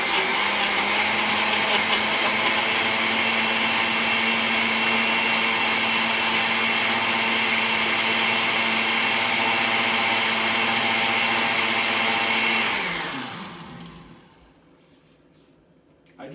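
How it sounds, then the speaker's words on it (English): A blender on its milkshake setting whirs loudly and steadily for about twelve seconds before the motor winds down and falls quiet. "I just don't like the annoying sound of the blender."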